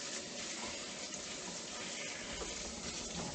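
Tap water pours in a steady, full gush over freshly harvested wild grapes being rinsed, a continuous close splashing wash with no break.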